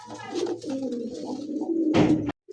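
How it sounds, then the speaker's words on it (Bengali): A healthy pair of pigeons coos repeatedly close by, soft throaty calls running steadily with a louder burst near the end. "খুবই সুস্থ সবল এক জোড়া কবুতর মাশাআল্লাহ।"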